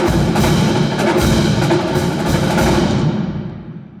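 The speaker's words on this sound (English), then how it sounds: "No band would be complete without a percussion section." Ohio State marching band percussion section of snare drums, bass drums, cymbals and tenors playing a song, a loud, dense, continuous roll of drumming and cymbal wash that fades out at the end.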